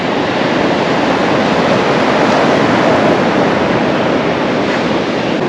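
Ocean surf at Myrtle Beach rolls in as a dense, continuous roar, loud and close, with wind buffeting the microphone and no voices.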